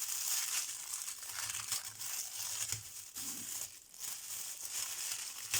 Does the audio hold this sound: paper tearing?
yes